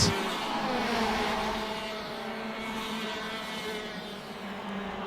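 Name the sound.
TKM racing karts passing on the straight at Kimbolton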